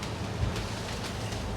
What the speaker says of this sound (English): now we're in like 25 to 30 knot winds